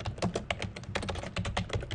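Rapid, quiet clicking of keys on a computer keyboard as a fudge brownie recipe is entered into cookbook software, the keystrokes coming in quick, uneven bursts close up with no talking.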